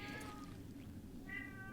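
A cat meows twice, faint and somewhat distant, each a short tonal cry separated by a pause, over a steady low background hum.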